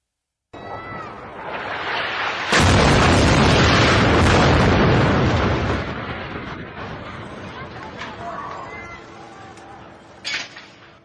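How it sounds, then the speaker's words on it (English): A large explosion from the bombing of a residential tower in western Gaza City: a loud, sudden blast that sustains a heavy roar for several seconds, then a long fading rumble with scattered debris and a smaller late bang. "The Mecca residential tower in western Gaza City was bombed by the Israeli army also on September 29th."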